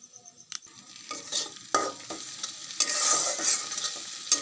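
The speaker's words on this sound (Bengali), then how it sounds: "দেখুন ভালো করে ভাজা হয়ে গেছে" Spices for pasta, chatpati or Maggi masala, being stirred and fried in a pan: close scraping stirs and bursts of sizzling, uneven and rising toward the end, with no voices.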